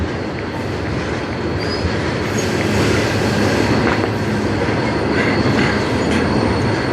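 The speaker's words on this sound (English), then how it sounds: "This is trains." CN freight trains roll past on the Strathroy Subdivision with a loud, steady rumble and rattling wheel clatter that holds throughout, with no voices.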